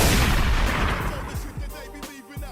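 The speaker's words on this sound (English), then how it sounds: "Jake, headshot this fool." Gunfire in the Evil Dead video game: a loud, reverberant blast opens the clip, followed by several sharper reports in quick succession, with a booming tail and game sound effects mixed in.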